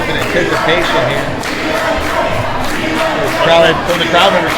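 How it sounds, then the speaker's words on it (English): Wrestling crowd at a live independent show chants for a wrestler, a rhythmic swell of many voices that rises toward the end over a steady crowd murmur. "From the crowd members saying, we want Chris."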